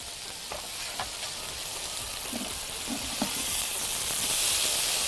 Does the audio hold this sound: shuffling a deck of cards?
no